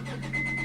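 A Honda Accord V6, just back from alternator repair, cranking and catching, a steady mid-pitched engine drone that swells slightly as it fires, close by with no talking.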